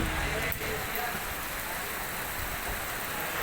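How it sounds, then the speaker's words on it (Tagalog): Heavy rain pours steadily, a dense continuous hiss of drops with no breaks, close and loud throughout. "Lakas ng ulan."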